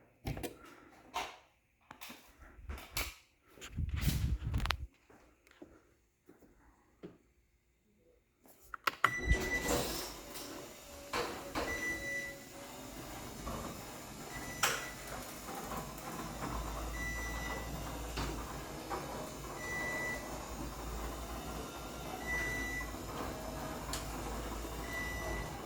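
A garage door opener runs on battery backup and moves the door, with a loud rumbling drive, clanks and rattles, and a repeating electronic beep sounding at regular intervals, after a few bumps and handling noises at the start.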